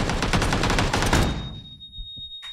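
Rapid automatic gunfire in PUBG, a dense burst of rattling shots lasting over a second, then cutting off and fading into a quiet tail with a faint click at the end.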